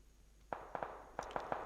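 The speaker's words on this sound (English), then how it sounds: "Obviously you could hear gunshots being fired." Distant gunfire in PUBG on PS5: about seven sharp shots in irregular bursts, some in quick pairs, faint and echoing with a short rolling tail.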